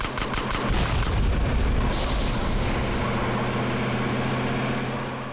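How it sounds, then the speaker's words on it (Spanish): Explosion and gunfire-like bursts near a car in the video game GTA San Andreas: a sharp cluster of loud blasts in the first couple of seconds, followed by a sustained rumbling roar with a steady low engine-like hum. "Vamos a ver qué tanto afecta la explosión al coche"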